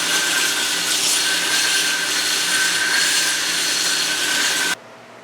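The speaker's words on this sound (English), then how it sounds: "we're now going to put it on the knife making machine on the belt sander and reduce it to round" A belt sander on a knife making machine grinds a steel shaft down to round, giving a loud, continuous abrasive hiss with a steady whine that runs alone before cutting off near the end.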